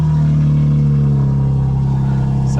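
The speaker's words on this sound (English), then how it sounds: "Let's start the car up in the loudest setting." A 2024 BMW M4 Competition xDrive engine runs loud and close in full sport mode with rear-wheel drive selected, a steady deep idle drone holding throughout with no voices over it.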